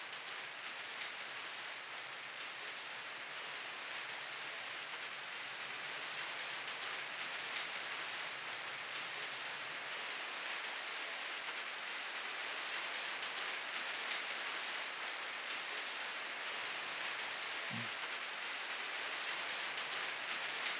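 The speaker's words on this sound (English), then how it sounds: "Really is raining out." Steady rain falls outside, a soft, even hiss of drops hitting surfaces, with no voices.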